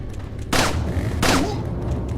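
Two sharp gunshots from Resident Evil 4, spaced under a second apart, each a loud crack with a short ringing decay over a rumbling game background.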